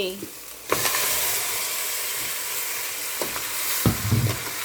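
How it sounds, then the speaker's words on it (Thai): Steady crackling sizzle of chicken stir-frying in hot oil in a pot, with a few clanks and scrapes of a utensil against the pot. "เสร็จแล้วก็จะผัดไก่คั่วไก่ในน้ำมันก่อน ให้ไก่สุกก่อน"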